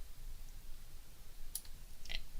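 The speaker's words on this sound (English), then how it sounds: "moving the mouse over the icon, left clicking and dragging" A computer mouse gives two faint, sharp left clicks about half a second apart against a quiet office background.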